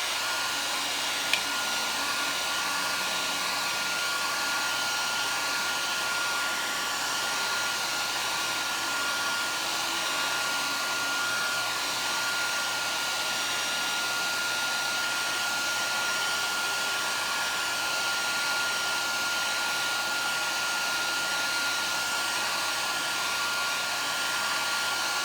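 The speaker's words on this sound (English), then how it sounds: "I'm going to use a hair dryer between layers here" Hair dryer blowing steadily to dry layers of watercolor paint, a constant close whir that runs unbroken for the whole stretch with no talking.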